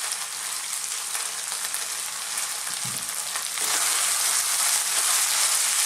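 Cooked spinach fries over high heat, sizzling loudly and steadily as it is stirred in the pan. A brief scrape of the utensil cuts through, and the hiss swells louder toward the end.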